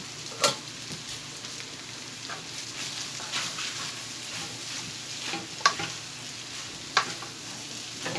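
Noodles stirred and frying in a pan for a breakfast dish, a steady soft sizzle with a few sharp scrape or clatter accents from the stirring, no voices over it.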